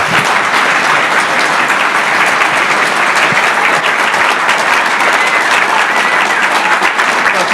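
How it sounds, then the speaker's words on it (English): Steady, dense applause from an audience at an IndyTalks conversation event, loud and continuous throughout with no pauses, a broad wash of overlapping claps filling the room. "You can clap this one time, and maybe at the end"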